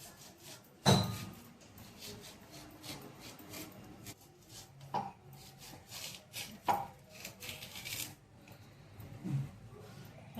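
A knife slices through raw banana on a cutting board in a home kitchen, with a sharp cut near the start and then scattered soft cuts and scraping, faint and close.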